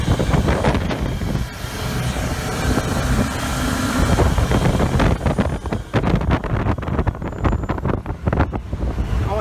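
A 2005 Baja 242 Islander powerboat running fast on open water, with loud engine roar, hull slapping and wind buffeting throughout, close and continuous.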